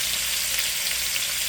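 Turkey neck frying in hot oil in a pot for brown stew, a steady close crackling sizzle that fills the whole moment without talk.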